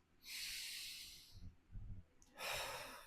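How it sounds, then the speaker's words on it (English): A slow, deep breath drawn in and let out during a relaxation exercise, heard as two long airy rushes with a soft sigh between them, close and alone. "Take a deep breath"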